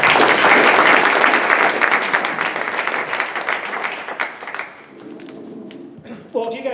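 Applause for the speakers at an AI open mic night, a loud burst of clapping that fades out toward the end, giving way to a few scattered sounds and a brief voice.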